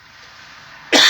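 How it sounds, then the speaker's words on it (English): A single loud, harsh cough bursts in abruptly near the end, close to the microphone, after a stretch of quiet background hiss. "I'm going to cough again."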